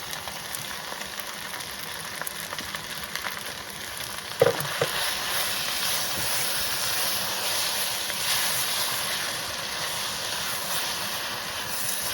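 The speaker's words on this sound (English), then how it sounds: "I'm gonna take that sauce that I made, gonna dump it on top." Pad Thai noodles sizzle steadily in a hot pan after the sauce is dumped on top, a loud continuous frying hiss with one brief splash-like burst partway through.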